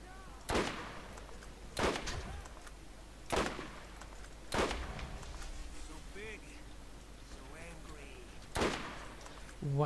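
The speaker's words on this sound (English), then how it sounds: "Wow, that's a big explosion." Loud booming blasts from the shooter game Borderlands, about five sharp explosive hits spaced a second or so apart, each decaying quickly, with game sounds and a voice talking in between.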